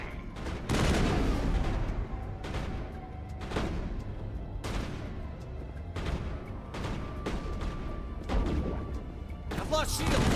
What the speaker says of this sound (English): Let's try the old assault rifle.